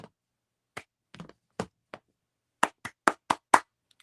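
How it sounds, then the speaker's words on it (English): One person giving a slow, sparse golf clap: about nine soft, separate handclaps at an uneven, unhurried pace, alone with silence between them. "golf clap for Anthony Mackie"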